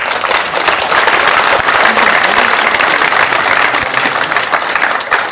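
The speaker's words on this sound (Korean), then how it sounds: "박수로 여러분 환영해 주시면 고맙겠습니다" Loud, sustained applause from a seated audience at a memorial ceremony in a hall at Seoul National Cemetery, dense continuous clapping holding steady for several seconds with no speech over it.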